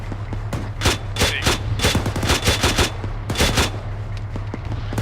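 Rapid bursts of automatic gunfire in the Arma 3 military game, loud and close, firing in repeated volleys with short gaps, sharp cracks over a constant low engine hum.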